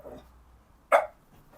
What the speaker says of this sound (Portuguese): Pausa para o cachorro latir.